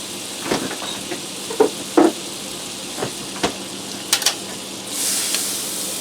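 Frozen butter, two and a half tablespoons, melts in a pan for breaded pork chops, giving a steady frying hiss broken by a few soft clicks and scrapes, with a brighter sizzle swelling near the end.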